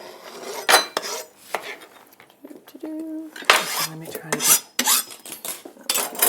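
A salad dressed with olive oil and lemon juice is tossed with utensils in a bowl, producing loud, close bursts of scraping, clattering and rustling separated by short pauses, with a faint tone in the background.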